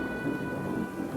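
A storm sound effect of rain and wind, a dense rumbling wash with a low thunder-like roll, steady and moderately loud throughout.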